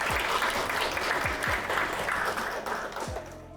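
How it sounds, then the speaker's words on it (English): An audience gives a round of applause at a healthcare administration career talk, a dense burst of clapping from a gathered crowd that starts at full strength and slowly tapers toward the end. "All right, so let's give them a round of applause"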